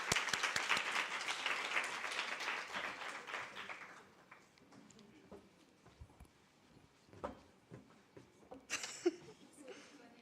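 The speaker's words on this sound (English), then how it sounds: "Let's clap for her, colleagues." Audience applause at a book club launch, a dense burst of clapping for the first few seconds that fades into scattered claps, light movement and faint talk.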